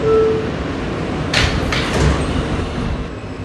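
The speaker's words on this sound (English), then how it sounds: "Stand clear of the closing doors, please." Sliding doors on a 7 express subway train shut with a brief swishing rush and soft thump over the steady hum of the car interior.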